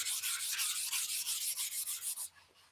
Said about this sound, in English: it raised up the wood grain, so I'm just going to give it a little quick sand